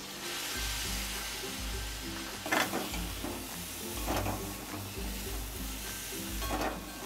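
Potatoes with roasted crushed peanut powder and spices are stirred in a hot pan, a steady close sizzle broken by a few scraping strokes of the spoon, with no talking.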